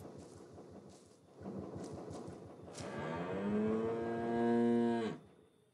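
A cow moos in the horror game Greyhill Incident, a long, loud, drawn-out bellow rising in pitch and swelling before cutting off, preceded by a scattering of softer rustling sounds with no talk.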